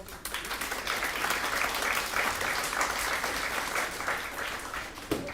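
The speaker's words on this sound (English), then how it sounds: "So we can clap for Dr. Malik." Sustained, dense applause from a conference hall audience, moderately distant and steady throughout before tapering off at the end.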